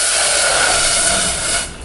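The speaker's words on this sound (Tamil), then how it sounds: "நம்ம ஒரு பாத்திரத்தில் தண்ணி விட்டுக்கலாம்." Water pours steadily into a pot with a continuous rushing hiss that tapers off near the end.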